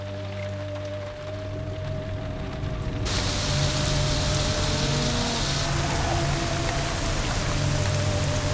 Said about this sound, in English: I'd say it was raining, wouldn't you, Mel?